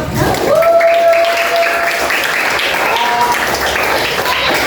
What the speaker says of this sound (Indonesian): Oke, tepuk tangan semua.